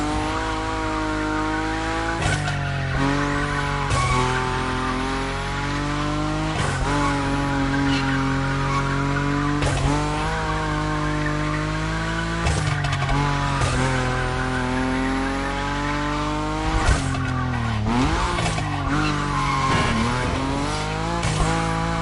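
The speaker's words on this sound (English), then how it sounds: "Your Nismo is powerful enough to slide along on its own when you're at high speed" A Nismo car slides through corners in The Crew Motorfest, giving long, wavering tire squeals over a steady engine roar, with repeated skids and brief breaks, loud and close throughout.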